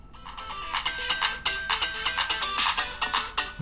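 A ringtone melody plays from the single speaker of a Samsung Galaxy A32 phone, bright and repetitive with rhythmic pulses, heard alone at moderate volume.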